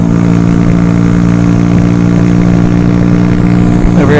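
A motorbike engine held at full throttle on a winter ride, a loud, constant buzzing drone with a steady pitch throughout.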